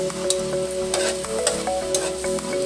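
Onion and garlic sizzle steadily as they are sautéed in a pan, with a close, continuous frying hiss and occasional stirring scrapes, and no talking.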